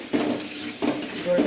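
Mixed vegetables tossed and sautéed in a hot pan, with two bursts of sizzling and scraping stirring separated by a brief lull, close and moderately loud.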